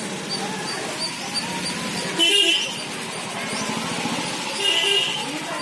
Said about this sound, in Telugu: అది వెళ్ళిపోయింది ఆటో